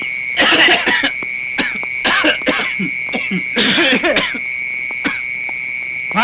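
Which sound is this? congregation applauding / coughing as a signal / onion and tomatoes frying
coughing as a signal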